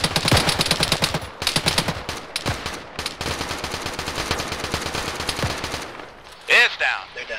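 Video-game gunfire rattles in dense, loud bursts of rapid machine-gun shots that run almost without pause, then stop abruptly near the end, where a brief voice-like sound breaks through.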